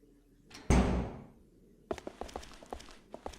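A door opens in the dark corridors of the video game Fragile Dreams, a single loud swinging thud with a fading scrape, followed by a run of light tapping footsteps.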